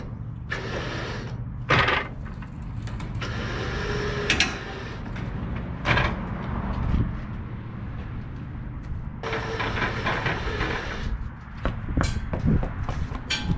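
A 1977 Datsun truck rolling into place, with dull mechanical clunks, scrapes and knocks from the chassis and wheels over a steady low rumble, including a few sharp impacts, all close by.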